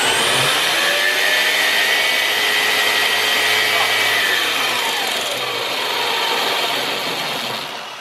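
A Vaterra V100 RC car fitted with a Sense ESS Dual Sound kit runs at full throttle on a dyno, its loud synthesized engine roar and whine holding steady close by, then easing slightly near the end.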